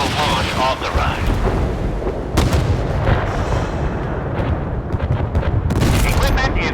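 Warship guns and weapons in the naval combat game Force of Warships fire in heavy, booming blasts, several loud discharges with rumbling tails piling over one another, alongside short game voice callouts.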